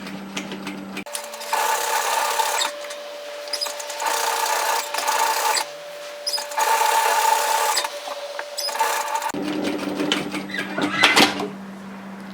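A sewing machine stitches a curved pocket seam on a bomber-style varsity jacket in quick, steady bursts, stopping and restarting several times with brief pauses between runs.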